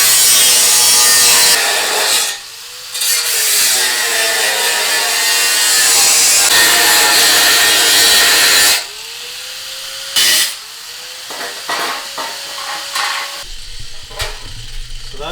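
Replacement sheet-metal floor pan for a 1978 Ford F-100 pickup being cut along a taped line with a power cutting tool, loud harsh grinding bursts with pauses between passes, close by, no talking.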